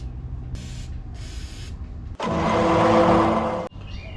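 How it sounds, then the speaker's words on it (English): An aerosol can sprays bolts during a 4-inch suspension lift install in a home garage: two short hissing puffs, then one long steady spray of about one and a half seconds, all close and loud. "Now time to spray down these bolts."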